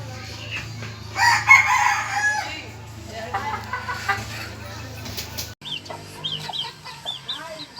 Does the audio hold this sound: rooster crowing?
yes